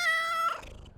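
A white domestic cat with blue eyes gives a single drawn-out meow, close and clear, its tone sliding down and fading at the end.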